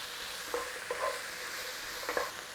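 Spices sizzle in oil in a pot with a soft, steady crackle and a few brief stirring clinks, quiet and close with no talking.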